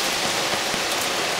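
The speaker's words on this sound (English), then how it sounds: "As you can see, it's rainy outside, but we're working under the awning" Steady rain falls outside under an awning beside a woodworking workshop, a dense continuous hiss of drops on surfaces, fairly loud and even, with no voices.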